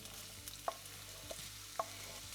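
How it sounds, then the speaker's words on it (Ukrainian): A steady, quiet sizzle of chopped onion frying in vegetable oil in a pan, with a few soft scraping clicks of stirring. No voices. "Наливаємо трохи рослинної олії і висипаємо нарізану цибулю."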